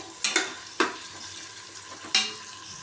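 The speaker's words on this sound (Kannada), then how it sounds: "ಹಾಗೆ ಫ್ರೈ ಮಾಡ್ಕೊಳ್ಳೋಣ." Onion and garlic fry in a pan for vegetable sambar, a soft low sizzle broken by four sharp scraping stirs of a spoon against the pan, close and fairly quiet with no talking.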